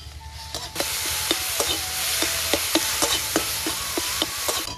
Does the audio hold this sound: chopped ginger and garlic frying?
yes